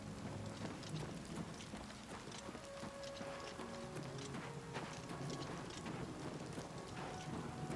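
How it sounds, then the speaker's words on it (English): A steady rainstorm pours down in Oblivion Remastered, a dense wash of rain that carries on throughout without a break, with no clear thunder crack standing out and no talking. "it is like it is a proper storm"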